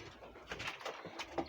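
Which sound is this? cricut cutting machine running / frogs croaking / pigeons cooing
pigeons cooing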